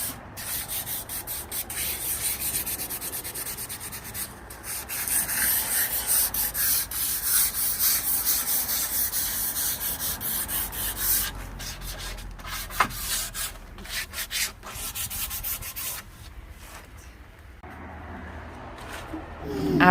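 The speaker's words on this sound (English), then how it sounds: "sanding between coats with a 220 grit sandpaper" Hand sanding with 220 grit sandpaper across a midcentury modern dresser between finish coats, close repeated rubbing and scratching strokes in uneven rhythm with brief pauses.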